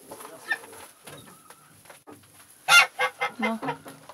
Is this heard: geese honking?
yes